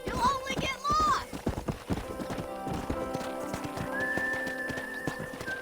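Rhythmic clip-clopping horse hooves and a high neigh near the start in the game Red Dead Redemption, layered with game background music and a sustained whistle tone; a voice speaks briefly.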